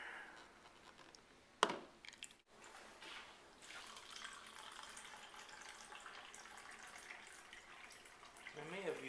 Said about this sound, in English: Then you add the water.